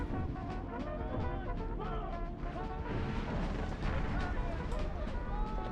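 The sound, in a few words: video game cannon artillery fire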